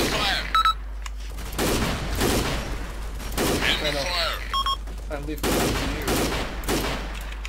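Gunfire in a military video game, with repeated sharp bursts and single loud shots cracking one after another, mixed with radio beeps and shouted voices.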